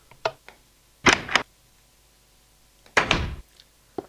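Wooden door in Minecraft clunking open and shut, a few short sharp thuds separated by silence, with two louder paired knocks standing out clearly.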